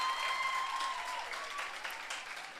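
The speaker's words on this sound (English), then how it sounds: "please, a round of applause for whoever it was that brought those." An indoor audience at a Girls in ICT Day 2022 event applauds, a dense burst of clapping that holds steady and gradually thins out over a few seconds.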